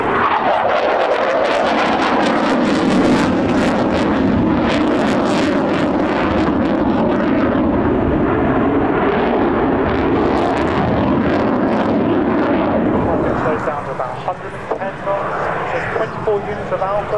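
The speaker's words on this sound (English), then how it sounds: "He'll be manoeuvring the aircraft up to 9G with his G-foot fully rising." A military jet roars continuously through a manoeuvring display at RAF Coningsby. The loud, sweeping engine noise shifts in pitch as the aircraft turns, and a commentator talks over it throughout.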